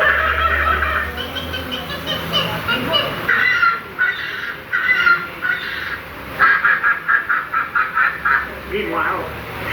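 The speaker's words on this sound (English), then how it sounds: "Suddenly, the treetops explode in a frenzy of outraged birds." Squawking birds erupt in a frenzy during the Enchanted Tiki Room show at Magic Kingdom, loud overlapping calls and honks bursting in repeated waves over about ten seconds, with show voices mixed in.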